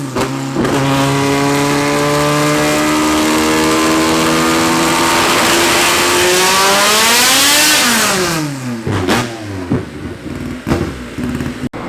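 A car engine revs hard on a dyno with its wheels spinning, a loud, close, sustained roar that climbs in pitch, then drops away into a few sputtering blips and pops.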